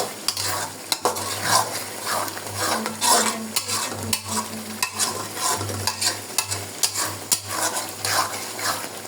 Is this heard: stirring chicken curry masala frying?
yes